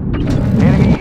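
Weapon reload in Call of Duty: Modern Warfare II, likely an AK-47: a second of mechanical clicks and ratcheting metal under the game's low rumble, with a faint callout underneath.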